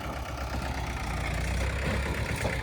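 Tractor engine idling steadily at close range with a low rumble, while a loaded trolley sits stuck in fresh soil in a village field; no talk over it.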